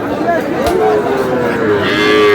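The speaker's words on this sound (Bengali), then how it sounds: "আমরা দেখছিলাম এখানে একটি ষাঁড়, দেখছেন জাহাঙ্গীর ভাই।" A Sahiwal bull moos loudly and close by at a cattle market, one long drawn-out low call with a wavering pitch, over a murmur of crowd noise in the background.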